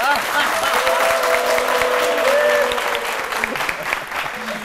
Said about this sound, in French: Des applaudissements pour Déborah, s'il vous plaît